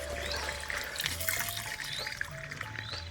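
Irrigation water runs over a chickpea field from a pipe, a steady close trickle and gurgle with light splashes, a low engine-like hum underneath and no talking.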